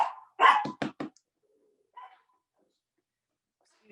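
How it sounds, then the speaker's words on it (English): A bossy pet dog barks indoors in a kitchen, giving a short burst of several sharp, close barks, then one softer bark after a pause, with quiet in between. "Excuse my dog, he's bossy."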